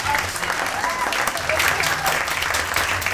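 Applause from a small group at a children's chocolate-fountain game after a contest win, a steady dense patter of clapping hands lasting throughout, with children's voices chattering over it.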